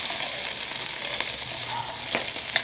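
Pork and onions frying in a pan for pinakbet, a steady close sizzle throughout with a few small clinks of stirring.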